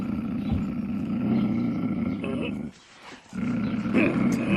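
A lion roars loudly as a sound effect in a told story, a sustained low growling roar that runs under the narration, breaks off briefly, then resumes.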